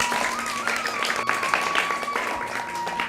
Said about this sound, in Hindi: इसलिए बिलाल के लिए तालियां